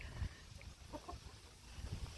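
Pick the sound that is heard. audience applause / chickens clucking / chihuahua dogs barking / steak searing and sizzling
chickens clucking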